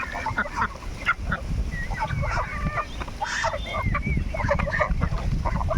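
A flock of farm ducks and ducklings quacks and honks busily nearby, overlapping calls over a low rumble of background noise.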